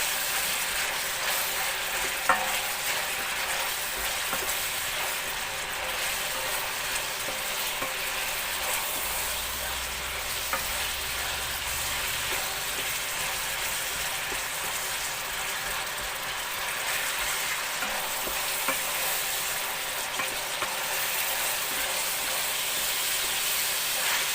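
Carrots sauté in a pan for Uzbek pilaf, giving a steady crackling sizzle with occasional scraping and stirring clicks, continuous and close, with no voices.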